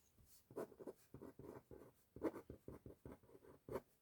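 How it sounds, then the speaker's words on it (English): Pen writing a trigonometric formula by hand on paper, close and quiet, in irregular bursts of scratchy strokes separated by short pauses. "I'm just going to write out the formula for cos a plus b,"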